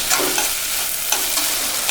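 Tomatoes sautéing in a pan while making wheat upma, giving a steady close sizzle and frying hiss with light stirring scrapes throughout, no talking.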